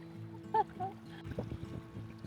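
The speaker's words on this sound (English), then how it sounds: "Taking a little trail shower." Water splashes and trickles as it is poured over someone taking a trail shower at a water source on the Pacific Crest Trail, in uneven bursts with a brief voice near the start.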